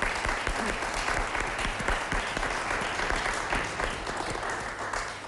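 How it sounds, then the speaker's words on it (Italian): A studio audience at a televised health talk show applauds steadily, a continuous even wash of many clapping hands, moderately quiet and fading slightly toward the end. "l'applauso se lo meriti"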